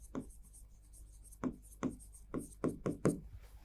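Chalk or marker strokes on a classroom board during a physics lesson, a series of about six short, distinct scratching taps in irregular rhythm, close and moderately loud, with no talking.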